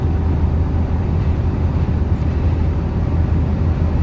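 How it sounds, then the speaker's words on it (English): Steady low wind rush and road rumble fill the cabin of a car cruising at 112 km/h with the roof in, an even, constant drone with no other events. "Tiny amount of wind noise"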